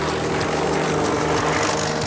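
An aerobatic propeller airplane makes a continuous, fairly loud engine drone during a stunt in which it hangs nearly motionless in the air, holding a steady tone throughout with no speech.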